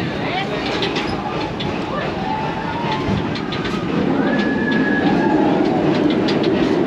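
A train rolls steadily along its track at Busch Gardens with a continuous rumble and clickety-clack, occasional faint squeals, and a voice audible over the noise.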